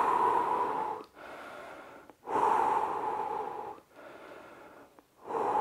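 A person breathes heavily after a home fat-loss workout: loud, close, ragged breaths come in long rasping pushes separated by short pauses, roughly five cycles, with no speech.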